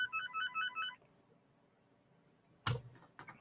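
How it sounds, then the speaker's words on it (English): A phone ringtone sounds as a rapid repeating electronic trill for about a second, then falls quiet, followed by a sharp thump and a few small clicks nearby. "Let me just wait for this phone to stop ringing."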